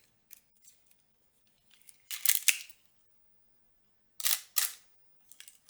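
Two crisp shutter actions from an Olympus OM-PC/OM40 35mm film camera at a slow shutter speed, each a pair of clicks with a brief pause between opening and closing, in an otherwise quiet room.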